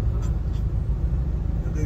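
Auto rickshaws and other vehicles in Bangkok street traffic, a steady low engine rumble close by, continuous with no breaks.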